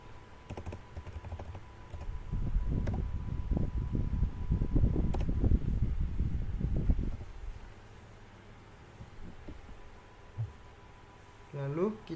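Typing on a computer keyboard while composing an email, a dense run of quick clicks building through the middle of the clip amid a low fan hum, then fading to quieter scattered taps.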